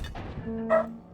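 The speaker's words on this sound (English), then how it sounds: "Sorry for the dogs if you can hear them." Dogs barking in the background during a naval strategy game match, a couple of quick, fairly faint yips and barks alongside the game's own sounds.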